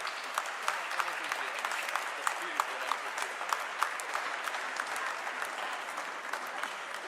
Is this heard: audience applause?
yes